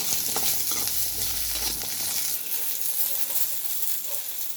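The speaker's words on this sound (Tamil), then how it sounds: "இதெல்லாம் ஃபுல்லாக வந்து நல்லெண்ணெயில் தான் வதக்கணும்" Pirandai sautéing in sesame oil in a pan gives a continuous close sizzle with light stirring scrapes and no voices.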